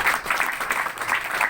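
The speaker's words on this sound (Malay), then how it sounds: "Jadi tepukan untuk anda semua." An audience applauds at a business talk, producing a steady, dense wash of clapping at moderate volume with no distinct individual claps and no voices.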